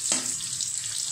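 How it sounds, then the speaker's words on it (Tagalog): Onions hit hot frying oil and start a soft, steady sizzle after a brief initial clatter, heard up close in a home kitchen. "Maglagay tayo ng oil. Igisa natin ang sibuyas."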